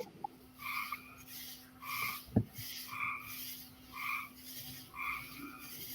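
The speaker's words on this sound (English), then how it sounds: "I hear the tree frogs." Tree frogs croak in a steady rhythmic chorus of about five or six evenly spaced bursts, moderately close and loud, with a brief sharp knock midway and no talking.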